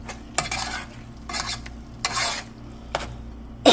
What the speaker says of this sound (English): Now we're going to stir it